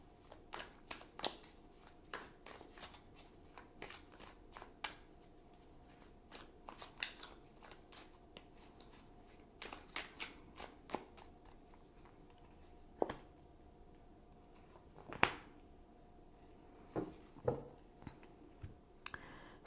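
Tarot cards being shuffled and drawn from the deck, a long stretch of soft, irregular riffling snaps and flicks close by, with a few sharper card slaps standing out.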